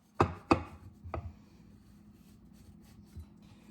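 A knife cuts through layered baklava in a few crisp strokes, two sharp crunches close together and then a softer third, followed by quiet scraping.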